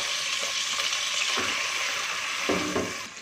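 Chicken chow mein frying in a hot pan as vinegar is added, a steady close sizzle with a few stirring scrapes and clinks, no talking.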